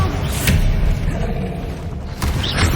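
A Bombarda spell explodes in Hogwarts Legacy: two heavy thudding booms about two seconds apart, each a sharp broadband hit over a continuous rumbling bed of game noise.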